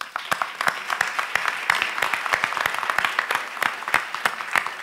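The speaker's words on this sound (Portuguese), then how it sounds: "Uma salva de palmas." Sustained applause from an audience at the opening ceremony of a national congress of labour prosecutors, many hands clapping at a steady dense rate for the full length with no voices over it.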